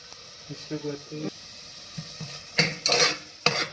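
Tomatoes being stirred and sautéed in a pan, quiet sizzling under brief murmured talk, then a few louder scraping and hissing stirs near the end, close by.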